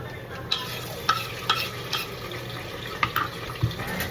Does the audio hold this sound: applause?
no